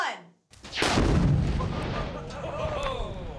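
Three pounds of C4 detonates in a single heavy blast: a sudden deep boom that rolls into a long, rumbling decay, heard from a distance in open air.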